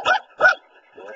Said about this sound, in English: You're barking at the wall.